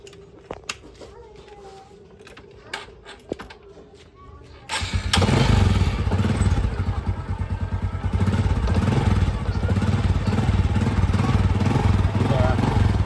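A Honda XRM motorcycle engine fitted with an XRM125 regulator rectifier is cranked after a few clicks, then starts and settles into a loud, steady, rapid putter close by.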